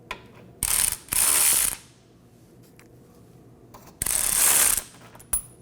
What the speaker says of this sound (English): We're going to remove our 2 middle bolts. These are 2 18mm.